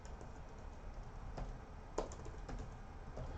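Typing on a computer keyboard at a desk, steady soft clicking of keys with a few sharper taps, close and continuous over a low room hiss, no one speaking.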